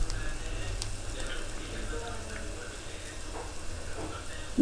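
Bitter gourd frying in a pan with salt, chili powder, cumin powder and coriander powder, a steady low sizzle under faint stirring scrapes, continuous and moderately quiet.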